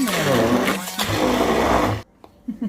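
A kitchen blender mixing sago, almond paste and ghee runs with a loud, close motor drone for about two seconds, then stops, leaving faint kitchen clatter.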